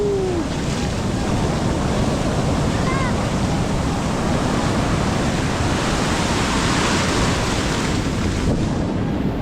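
A steady roar of strong ocean surf and wind at a shallow beach in La Union, Philippines, waves crashing continuously, with faint voices in the background.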